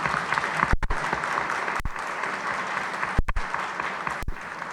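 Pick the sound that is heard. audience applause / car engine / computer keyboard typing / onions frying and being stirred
audience applause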